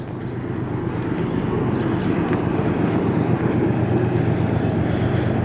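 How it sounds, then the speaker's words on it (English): Steady low rumble of a train rolling along the railway, continuous and fairly loud with a broad roar and no talk. "If you listen carefully, you can hear the train."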